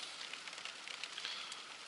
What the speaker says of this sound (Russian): Ну, буду ждать, когда дождь пройдет.